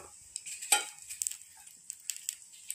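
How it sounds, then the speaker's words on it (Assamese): Dried pork fries over low gas flame in a pan as its fat renders out, a faint soft sizzle under scattered clinks and scrapes of a spatula against the pan. "এনেকৈ ভাজি ভাজি গাহৰি মাংসৰ পৰা তেলখিনি ওলাবলৈ দিম।"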